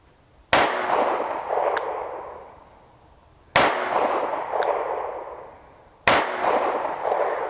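Three single-action shots from an EAA Windicator .357 revolver, slowly spaced, each a loud, sharp crack followed by a ringing, echoing decay, with no talking.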